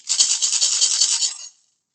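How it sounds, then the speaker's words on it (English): A maraca is shaken in one continuous, bright, dry rattle lasting about a second and a half during a kindergarten literacy lesson on instrument sounds, then it stops. There is no talk over it. "We had a maraca."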